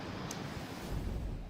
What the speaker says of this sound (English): lots and lots of wind gusts at the moment